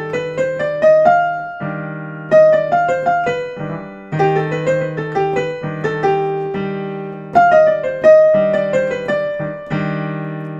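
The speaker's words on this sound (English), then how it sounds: "That's the sound of Lydian augmented." Piano playing a shell chord of root, third and seventh with the Lydian augmented scale run over it, repeated in several phrases of quick, clear single notes above held low chord tones, with no talking.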